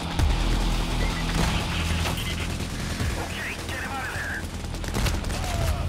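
Gunfire in the video game Payday The Heist, a heavy barrage of rapid automatic shots with scattered sharp cracks and impacts, loud and near, some voices faintly underneath.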